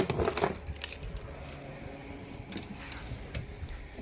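A bunch of keys jingles and clinks up close, with a burst of bright metallic rattling at the start and scattered lighter jangles after it.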